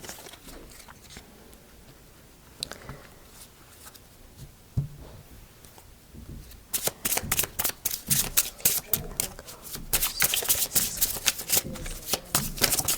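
Tarot cards being shuffled by hand, soft and quiet at first, then a dense run of crisp, rapid riffling and flicking from about seven seconds on, loud and close with no voices.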